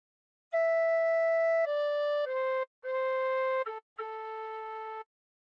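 A recorder plays a short opening phrase of Nearer My God to Thee, with five clear, pure sustained notes, the last two separated by a brief pause.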